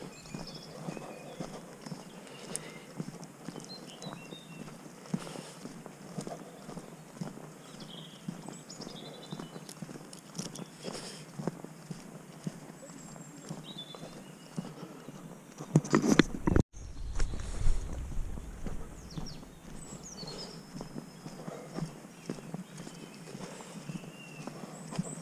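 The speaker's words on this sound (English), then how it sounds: "Leave the horses, Wilson." Horses walking on a woodland path, hooves clip-clopping at a steady pace, with birds faint in the background and a brief loud rustle near the mic partway through.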